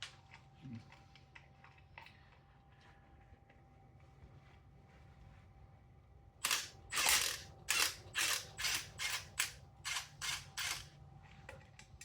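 Ratchet wrench with a short 12mm socket and wobble bit working a tight bolt on a Toyota 7M-GTE engine during teardown, a quiet stretch giving way to a close, rapid series of sharp ratcheting clicks in quick strokes.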